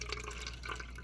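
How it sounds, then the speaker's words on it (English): Water added to an overflow cup in a classroom demonstration, a steady light trickle and drip running continuously at close range over a low background hum. "we're going to add water"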